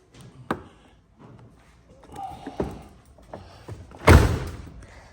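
Honda mini truck cab door handled after bodywork repair, a few light clicks and thuds building to one firm slam, close by, with faint voices in the background.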